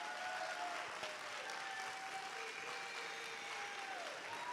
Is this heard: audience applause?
yes